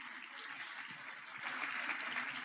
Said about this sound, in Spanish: Ustedes creen que me aplauden a mí